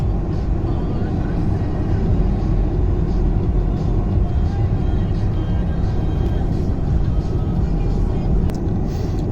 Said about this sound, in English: Just now full throttle, and then we need to put in the neutral after we get the right point.